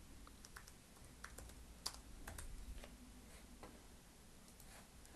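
Quiet, close clicking of a computer keyboard as a short title is typed into Adobe Premiere CS5, a sparse run of light keystrokes over faint room hum, no talk.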